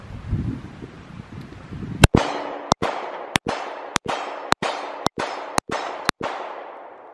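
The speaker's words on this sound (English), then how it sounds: "So let's go ahead and take our shots with the Smith here." Smith & Wesson M&P Shield pistol fired in a series of about nine sharp, loud, close shots at a steady, evenly spaced pace, each with a short ringing tail, after a couple of seconds of quiet background.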